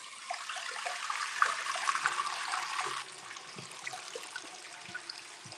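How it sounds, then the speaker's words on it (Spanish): Bidet water running in a small home bathroom, a steady close hiss and splash that drops to a softer trickle partway through, with no voices. "Miren el bidet que tengo."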